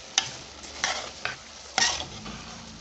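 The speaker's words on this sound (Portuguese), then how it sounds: "Vou misturar aqui" A spoon stirs rice into tomatoes in a cooking pot, making four separate scraping, rustling strokes with short pauses between them, close up and without talk.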